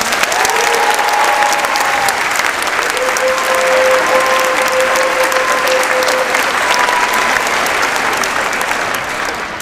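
Loud, sustained applause from an audience at a student declamation exhibition, steady dense clapping throughout with brief tonal voices or cheers rising above it.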